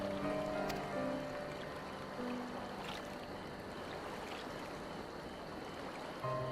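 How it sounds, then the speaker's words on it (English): Ocean water in a Final Fantasy XIV cutscene washes in a faint, steady wash beneath soft sustained music tones, continuous for several seconds with no speech. "It calms me, the sound. It helps me to remember the sway of the ocean when I close my eyes."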